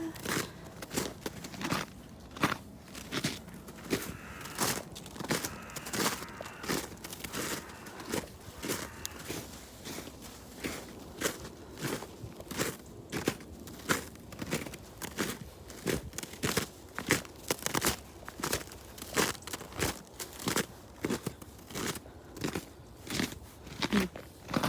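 Footsteps crunch over icy snow outdoors in a steady walking rhythm of sharp, crisp crackles close by, with no talking.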